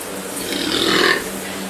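A man gives a single loud, drawn-out burp in a doorway, rough and rumbling, lasting about a second over faint room noise.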